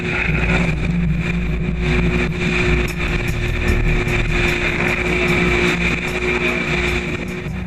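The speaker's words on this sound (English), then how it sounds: "The relentless high winds slow the boat to a crawl for almost an hour." A fishing boat's engine drones steadily as relentless high winds slow it to a crawl, the wind buffeting the microphone in a constant loud roar with no breaks.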